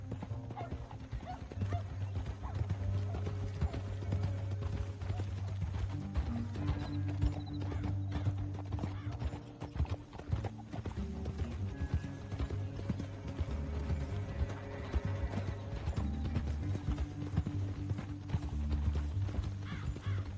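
Steady clip-clop of horse hooves at a walking pace in the video game Red Dead Redemption 2, continuous and fairly close, with an occasional whinny and faint mechanical clicking in the background.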